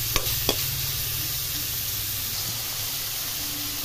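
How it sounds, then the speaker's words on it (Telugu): Onion pieces and green chillies frying in oil for a gongura prawn curry, a continuous close sizzle with a couple of sharp spoon taps at the start, then steady hissing with no talking. "ఇందులోనే ఉల్లిపాయ ముక్కలు వేసి వేపుతున్నాం."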